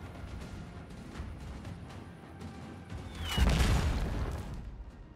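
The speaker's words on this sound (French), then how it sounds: "Parce qu'il y a eu de l'explosion là." A deep explosion boom in the strategy game Last Train Home, rising over a low rumbling battle background and tailing off over a couple of seconds.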